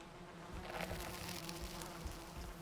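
Bees buzz in the Valheim video game, a steady droning swarm hum that holds close and continuous throughout, with no talking over it.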